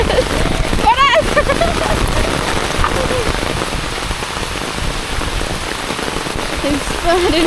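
Rain pours steadily in a long, dense hiss of drops splashing on surfaces, loud and close throughout, with a voice speaking briefly over it near the start and again at the end.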